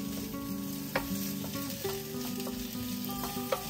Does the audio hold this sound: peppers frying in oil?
yes